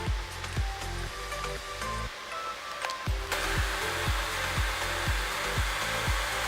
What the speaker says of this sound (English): It's a bit of a loud computer,